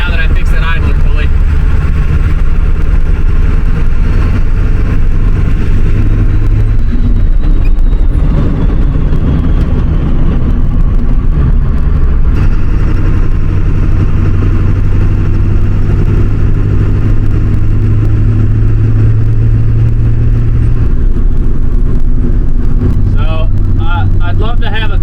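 A Ford 7.3 Powerstroke diesel in an older pickup fitted with a KC300X turbo rumbles loudly and steadily at idle, a low throbbing clatter filling the scene with someone talking over it at times.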